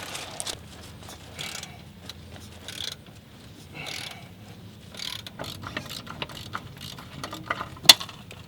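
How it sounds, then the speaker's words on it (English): Socket wrench ratcheting on a tight transmission mount bolt at a salvage yard, a series of irregular clicking bursts with pauses between them, fairly close and moderately loud, with one sharper metallic knock near the end. "So hopefully now I can get a socket on there"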